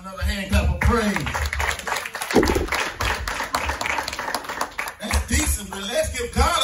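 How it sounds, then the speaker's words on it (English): A church congregation at a Mother's Day service claps in praise, a dense rapid patter of many hands that fills the room while a preacher speaks loudly over it. "Let's give God another hand clap of praise."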